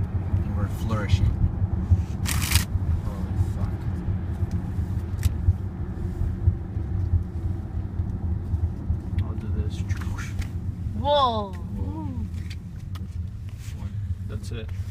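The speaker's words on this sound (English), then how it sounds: "we're driving in the Lincoln and we're flourishing" A Lincoln car drives along with a steady low rumble of engine and road noise inside the cabin, while people talk and exclaim over it.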